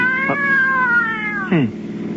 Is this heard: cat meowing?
yes